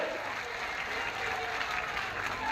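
A rally crowd claps steadily and densely, a continuous wash of applause at moderate distance lasting the whole moment.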